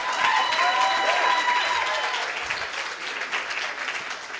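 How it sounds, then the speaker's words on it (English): A student union crowd at a 2016 election results night breaks into a big round of applause, loud and dense at first, then easing slightly while still sustained; faint crowd murmur sits underneath. "Let's have another massive round of applause."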